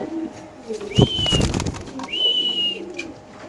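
Racer pigeons coo in two clear, drawn-out calls close by, with a brief flutter or knock between them and a low murmur of background noise underneath.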